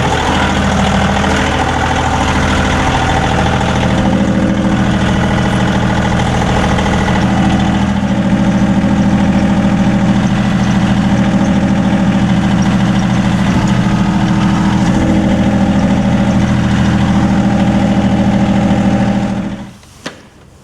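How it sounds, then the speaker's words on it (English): A push-start generator engine runs steadily, a loud, close, rough mechanical chug that continues evenly before cutting off abruptly at the end. "the generator's ready to go."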